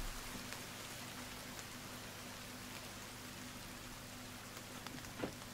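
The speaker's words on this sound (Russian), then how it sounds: "Дождик идет." Rain falls steadily in a forest in the survival game The Forest, a soft, even hiss of drops with no voices, staying constant and fairly quiet throughout with one faint knock near the end.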